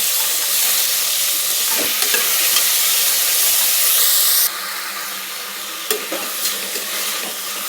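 Tomatoes and peas cook in a pan for tomato rice, with a loud continuous sizzle and scraping stirs close by that drop in level partway through, then a few clinks of the spoon.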